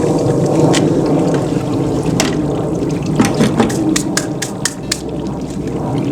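Water poured onto the soil around a tree-sized blueberry plant freshly fed with bone meal, a steady splashing trickle and gurgle with brief higher splashes, close by, no voices.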